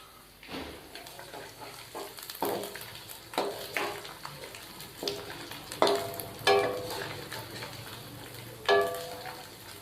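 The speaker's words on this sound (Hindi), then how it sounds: "खड़े मसाले शामिल करने के बाद हमने 1 मिनट के लिए इसको फ्राई कर लिया है" Whole spices such as cloves and star anise frying in oil in a pot for kala chana pulao: steady soft sizzle with repeated sharp clinks and scrapes of a spoon stirring against the pan.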